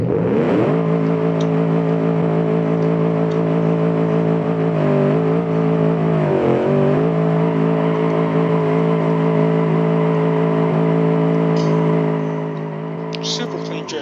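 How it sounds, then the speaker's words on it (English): A front-wheel-drive supercar in the BeamNG driving game holds a loud, steady high-revving engine drone through a drift, with small pitch wobbles midway and the roar easing slightly near the end. "Super clean drift."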